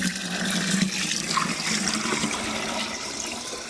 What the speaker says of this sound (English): In the jug I've just got hot tap water.